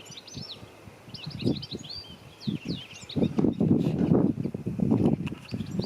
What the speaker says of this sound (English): I think they're goldfinches in there.